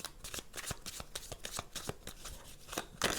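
Playing cards being cut and shuffled by hand for a tarot-style reading, a quick series of crisp riffling snaps and soft slaps repeating close up, with no talking.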